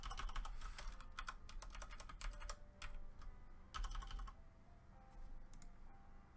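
Fast, uneven typing on a computer keyboard, close and fairly loud, in bursts of clicks with short pauses and fading to quieter taps near the end, no talking.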